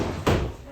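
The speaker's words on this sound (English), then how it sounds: "Yeah, Patrick, can you close the door?" A classroom door is pushed shut during a lecture, giving a single muffled thud over quiet room tone, with faint rustle before and after.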